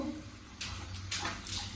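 An 11-month-old baby splashes water in a tub, giving short bursts of splashing and sloshing separated by brief pauses, close by over faint room noise.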